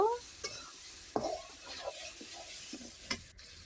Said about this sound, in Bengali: এর ভিতরে এখন ভেজে রাখা মাছগুলা দিয়ে দিলাম। এটা এখন ভালোভাবে কষাবো।